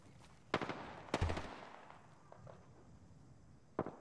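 Gunfire in the battle-royale shooter Apex Legends: three sharp shots at about half a second, one second and near the end, with quieter scattered reports between, set apart at mid distance.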